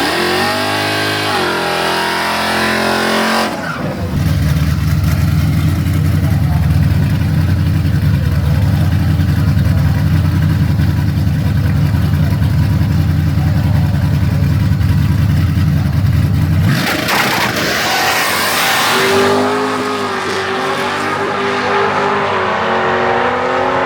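A VL Calais running E85 with extra boost launches and accelerates hard down a drag strip, a loud sustained engine roar lasting about thirteen seconds, bracketed by quieter idling and engine sound before and after.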